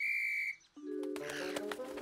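A bright, steady whistle tone sounds for about half a second, then lower whistle notes follow amid clattering, chirpy noises.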